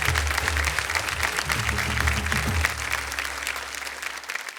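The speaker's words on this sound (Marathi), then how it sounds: "जोरदार टाळ्या झाल्या पाहिजेत ताईंसाठी." A stage audience at a kirtan performance contest gives loud, sustained applause for a woman invited up, a dense clapping that thins slightly toward the end.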